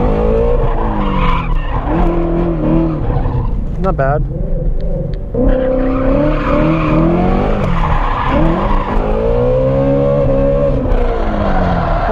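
A 2017 Shelby GT350 drifting, its tires squealing in long wavering skids over the engine's roar, loud and close, with a short spoken remark in between.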